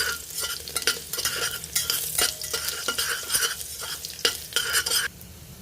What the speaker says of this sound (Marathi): फोडणी परतून घेऊया जरा छानपैकी